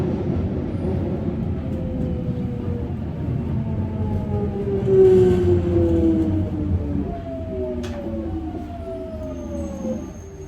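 A London Underground Jubilee line train rumbles along the track with a loud steady roar and rising and falling motor whine, a brief squeal near the end.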